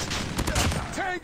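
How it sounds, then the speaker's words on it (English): Machine gun fire in the Call of Duty Mobile video game, a dense continuous burst of loud shots with in-game effects mixed in, ending abruptly. "Let's get our machine gun out."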